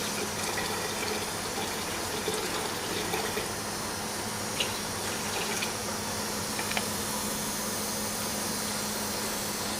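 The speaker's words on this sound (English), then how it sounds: "we will add water." Water running steadily into an SFD purifier for diesel fuel during installation, a continuous broadband pouring and gushing wash with a low pump-like hum underneath, fairly close and even throughout.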